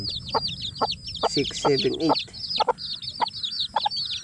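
A hen clucks softly near her brood of eight chicks, whose high chirps repeat steadily throughout, with one burst of louder, busier clucking in the middle.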